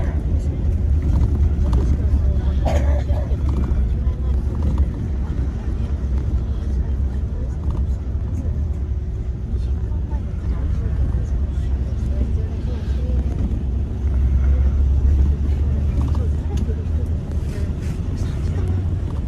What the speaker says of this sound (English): So I am shooting from the bus